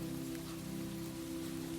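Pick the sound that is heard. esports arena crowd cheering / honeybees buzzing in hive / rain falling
rain falling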